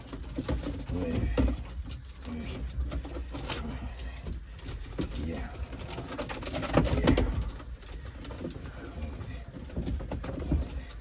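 Wet birds, likely pigeons, coo softly after rain amid scattered rustling and fluttering, with a person talking intermittently nearby.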